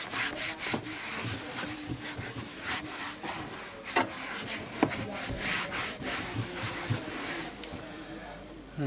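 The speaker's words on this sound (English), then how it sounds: "So I'm gonna use this wax as well to clean the center console." A car's center console is rubbed and wiped with an interior wax dashboard dresser, making a steady close scrubbing and rubbing sound with brief soft bumps, fairly quiet throughout.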